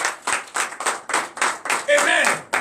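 A church congregation claps in acclamation during a Sunday teaching and worship service, a series of sharp, loud rhythmic claps that merge toward the end, with a sung or shouted voice rising over them.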